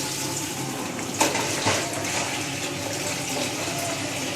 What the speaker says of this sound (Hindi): 3 से 4 गिलास हमने इसमें पानी ऐड कर दिया है।